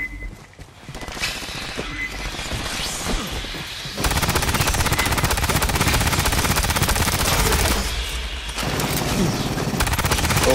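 Sustained automatic gunfire from a held trigger in the Aliens Fireteam Elite shooter, mission Gift of Fire, dense and loud, with a dense continuous burst from about four to eight seconds and more bursts after, amid game effects.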